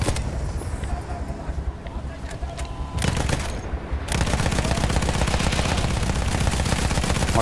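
Battlefield 1 gunfire: scattered shots and a quieter stretch give way to sustained rapid automatic fire that overheats the weapon, loud and dense, with a voice talking briefly in places.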